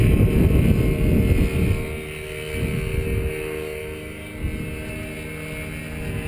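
A paramotor engine drones steadily on throttle during a training flight near Paris, a continuous buzzing hum with wind rushing over the microphone.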